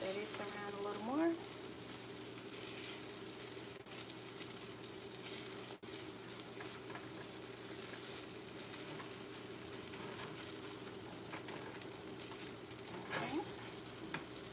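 Corned beef hash frying in a pan, a steady close sizzle lasting throughout with occasional stirring scrapes near the start and end, a faint steady hum underneath and no clear talking.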